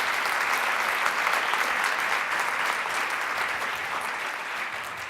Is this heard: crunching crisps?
no